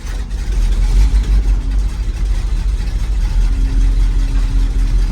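An International Harvester 1800 Loadstar truck engine, cold and on choke, catches and settles into a loud, rumbling idle with a steady low throb, running close by without any talking.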